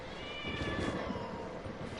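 A cat meows in Genshin Impact, heard as a drawn-out, wavering mew with a slightly whiny tone, fairly close and steady against a faint game background, with no talking.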